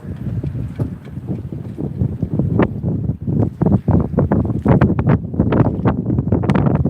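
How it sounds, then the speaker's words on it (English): Gusty wind buffets the microphone in uneven low rumbling bursts at an anchorage full of boats, loud and close, with no talking. "Oh, windy, yes. You probably heard it on the microphone."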